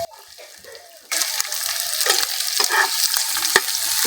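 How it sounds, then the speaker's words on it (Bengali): Chopped onion lightly frying with garlic in a pan: quiet start, then a sudden louder sizzle with stirring clatter, close by, no voices. "পেঁয়াজটাকে হালকা করে ভেজে নিয়েছি"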